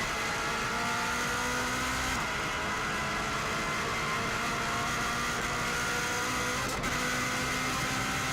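A Subaru race car at speed on the bumpy Isle of Man TT road course, its engine a loud, steady close drone that barely changes, with one brief jolt near the end.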